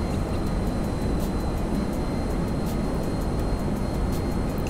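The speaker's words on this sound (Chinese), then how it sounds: "这台小飞机慢慢的应该是还好了，是不是安全的降落了？" A V-65 Molotok plane landing in GTA 5 Online gives a steady, loud engine and airframe roar with a constant broadband rush and a faint high whine, all with no talking.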